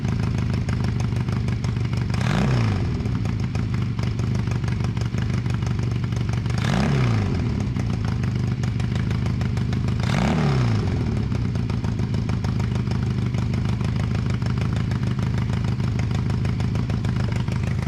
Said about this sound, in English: Started up and it's idling on its own now.